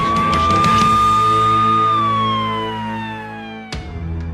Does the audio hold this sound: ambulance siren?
yes